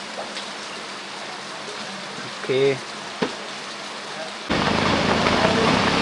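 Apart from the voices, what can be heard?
heavy rain at Banihal market, Kashmir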